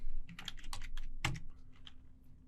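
A short command typed on a computer keyboard: a handful of close, crisp key clicks with one heavier thump, likely the enter key, mid-sequence.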